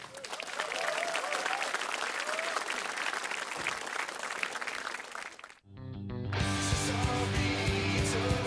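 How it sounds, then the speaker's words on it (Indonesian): Loud, dense applause and crowd noise greet a comedian at an Indonesian stand-up comedy open mic on TV, then cut abruptly to a burst of upbeat intro music. "Beri tepuk tangan yang meriah untuk Arya Sutaria."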